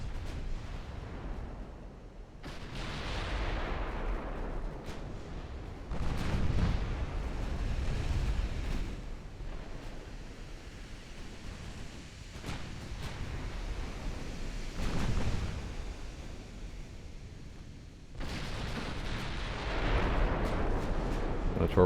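Heavy warship main-gun salvos boom repeatedly in the naval combat game Ultimate Admiral Dreadnoughts, each deep blast followed by a long rumbling roll, about five or six volleys spaced several seconds apart.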